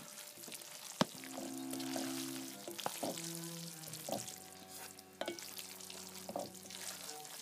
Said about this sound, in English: You can't smell it, but you can hear it. This is how a good carbonara has to sound.